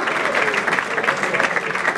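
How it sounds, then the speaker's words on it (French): Applause from an audience at an award ceremony for best diaspora and Kinshasa artists, steady and dense across the whole stretch, with faint voices and cheering mixed into the clapping. "applaudissez fort, mesdames et messieurs"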